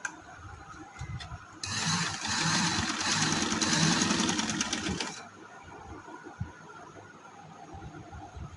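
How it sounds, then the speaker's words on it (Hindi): A sewing machine stitches a strip of handmade lace, whirring in one loud, steady burst of about three and a half seconds between quieter stretches of handling noise. "इसके दरमियान में सिलाई लगती जाए"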